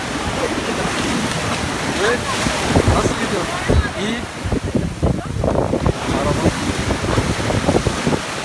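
Sea waves breaking on the shore at Karaburun beach, a constant loud surf wash with strong wind buffeting the microphone, the crashes surging and receding unevenly close by.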